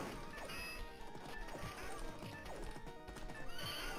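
Horse neighs and clip-clopping hooves from the Knights of the Round arcade game, mixed into a dense, busy game soundtrack with crashes and hits throughout.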